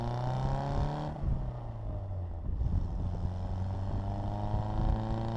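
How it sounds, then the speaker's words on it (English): The 948 engine of a 1959 Austin-Healey Bugeye Sprite with a five-speed gearbox pulls hard uphill, its revs climbing through a gear then dropping and rising again, loud and close, with no talking. "The little 948 engine has good pep and sounds nice."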